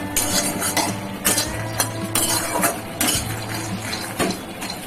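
Lotus seeds (makhana) stirred in a pan, a utensil scraping and clinking against the metal in rhythmic strokes, close and fairly loud, with no talking.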